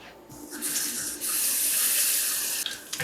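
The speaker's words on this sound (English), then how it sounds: "Let's go wash your hands." Tap water running into a kitchen sink during handwashing, a steady close hiss and splash that swells after a quieter start and keeps going throughout.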